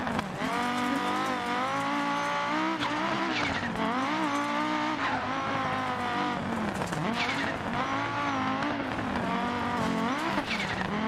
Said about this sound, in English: we were listening to the F2004